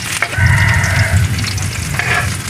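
Ginger sautéing in a pan for duck adobo cooked in coconut milk, a loud, close, continuous sizzle and crackle of hot oil with brief stirring scrapes throughout, no voices.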